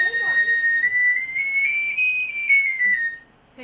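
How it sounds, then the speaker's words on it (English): A steady, piercing high whistle is held for about three seconds with a slight rise in pitch, loud and close, over faint background noise before cutting off. "I got a whistle that makes glass sound."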